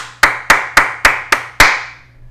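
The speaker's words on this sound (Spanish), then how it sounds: "Así que a los hermanos chilenos, un aplauso, por favor" Six sharp, evenly spaced hand claps ring out close and alone, each crack decaying quickly before the next, ending after the sixth.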